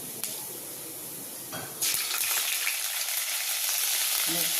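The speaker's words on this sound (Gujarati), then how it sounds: "એક પેનમાં તેલ ગરમ થવા મૂકી દીધું છે. તો આપણે વઘાર કરીશું." Mustard seeds and cumin hit hot oil for tempering, and a loud, close sizzle bursts in suddenly after a quieter start, then keeps hissing steadily to the end.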